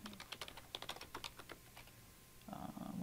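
Quick bursts of clicking keystrokes on a computer keyboard, close and quiet, a run of irregular taps that stops, followed by a brief low murmur of voice.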